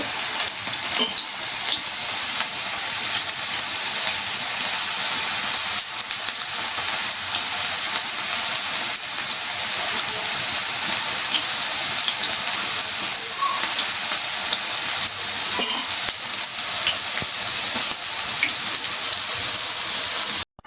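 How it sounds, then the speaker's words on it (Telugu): Onion pakoda batter deep frying in hot oil gives a steady, dense, rain-like sizzle that stays loud and even throughout, with occasional faint pops and no voices. "ఆయిల్ బాగా కాలిన తర్వాత ముందుగా మనం కలిపి పెట్టుకున్నాం కదా పిండి, ఈ పిండి పలసంగా వేసుకోవాలి"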